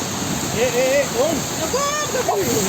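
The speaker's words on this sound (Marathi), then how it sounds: "आपण पोहोचलो आहे वॉटरफॉलच्या इथे." Steady rushing water of a waterfall near Mahabaleshwar fills the background, with several people talking loudly over it.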